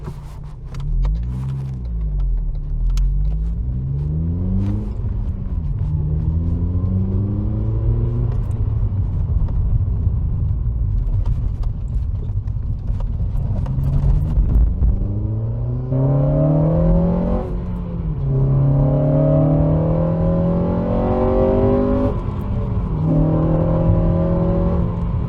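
An eighth-generation Honda Civic Type R (FN2) with coilovers and a big brake kit accelerates hard on a road, engine revving up through several gears with rising pitch sweeps and shift breaks, loud and close from inside the car.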